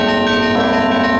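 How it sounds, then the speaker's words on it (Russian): Bells of the Rostov cathedral, a fifteen-bell set, ringing loudly and close in a brief burst, with sustained overlapping metallic tones and a fresh strike midway. "Звукоряд Ростовского кафедрального собора 15 колоколов"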